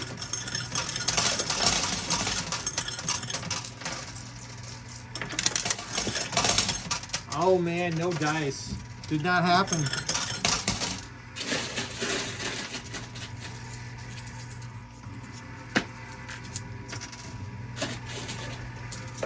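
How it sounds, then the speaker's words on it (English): Quarters drop into a coin pusher machine, whose clinks and rattles come in fast handfuls with mechanical hum. Close by, someone talks over them, disappointed. "We can drop a lot more quarters a lot faster because we got two hands working on it."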